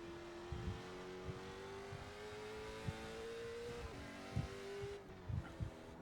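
A race car engine in the iRacing sim holds a steady, loud rising drone at full throttle, its pitch climbing, then briefly dipping near four seconds before climbing again, with a few thumps and bumps over the continuous engine note.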